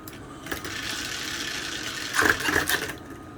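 Small electric motors in a DIY slot machine pull the brake arms, giving a steady close mechanical whir that swells into a few louder clunks and rattles near the end, with no talking.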